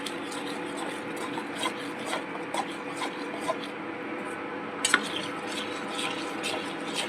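Kathiyawadi onion sabji of whole onions coated in gram flour is stirred in a pan, giving steady soft scraping and rubbing strokes with a few sharper clicks of the spoon against the pan, close up with no talking.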